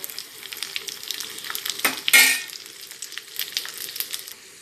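Black squid frying in oil over low heat gives a steady crackling sizzle, with a louder burst of spatter and a scrape of stirring midway, then settling back to an even fizz.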